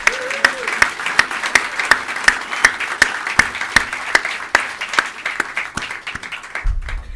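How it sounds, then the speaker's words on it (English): Audience applause fills a graduation ceremony hall, a steady dense wash of many hands clapping with a few louder nearby claps standing out, fading toward the end as a low rumble comes in. "I think we just need to give them all a round of applause"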